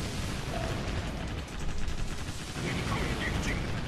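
Warship cannons firing in the video game Warship Gunner 2, a dense run of rapid booming shots and explosions over a rumbling battle background, fairly loud and continuous, with a voice talking at times over it.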